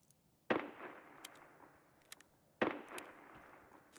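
Two sharp, distant-sounding gunshots from a sniper scav in Escape from Tarkov crack about two seconds apart over a quiet background.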